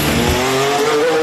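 Brand-new Haas VF19 Formula One car at pre-season testing, its engine a loud, close, continuous high whine with a pitch that climbs steadily as it passes.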